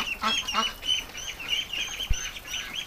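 Several ducks quack in quick, overlapping bursts, nearby and moderately loud, with a short thump partway through.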